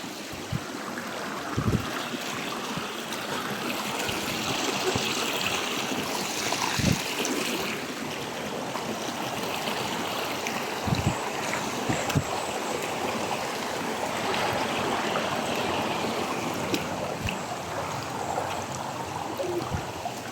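Water rushes steadily over rocks in a flowing stream, a continuous broadband wash with occasional low knocks, close and fairly loud throughout.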